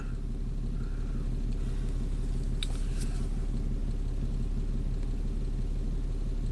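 A Mitsubishi Montero's 3-liter V6 at full throttle in a 4x4 drives a steady, loud low rumble with constant engine drone throughout, a faint brief tick near the middle, no talk.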